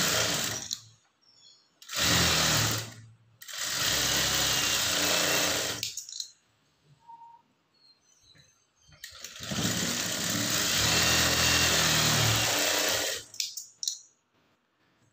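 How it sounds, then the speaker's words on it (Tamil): A sewing machine stitches a blouse lining in several runs, two short bursts and then longer stretches of steady motor hum and needle clatter, with quiet gaps between them, heard up close. "கால் இன்ச் அளவுக்கு தையல் போட்டுக்குங்க."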